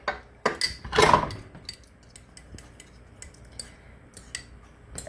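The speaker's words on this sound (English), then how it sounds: "So I'm just going to break up my egg and just mix it together a little bit here" A fork beating an egg in a bowl for sweet potato casserole: a few clinks at the start, then quick light ticking taps of metal against the bowl in an uneven rhythm, close and fairly quiet.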